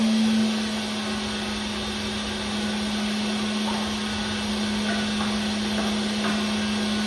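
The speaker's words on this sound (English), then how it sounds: "Hopefully it's not too bad of a sound from the grinder coming out." A grinder runs in a workshop with a constant, even motor hum and whine that holds steady throughout, with no voices.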